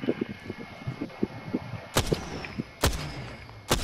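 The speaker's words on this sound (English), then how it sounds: "That's you firing." Gunfire in the video game Apex Legends: a string of quick muffled shots at first, then three loud, sharp cracking shots spaced about a second apart.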